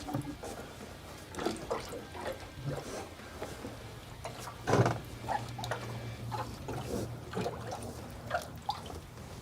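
Trapped air gurgles and trickles through the coolant in the upper radiator hose of a Nissan 200SX, irregular bubbling pops and splashes over a low, steady engine hum, quiet and close, with no talk.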